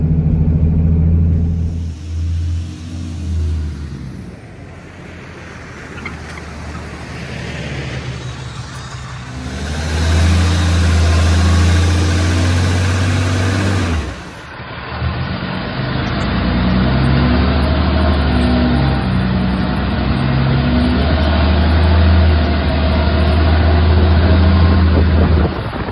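A tow truck racing toward an accident scene, its engine rumbling loud and close throughout, with surges of acceleration and a brief dip midway before the drone picks back up steadily.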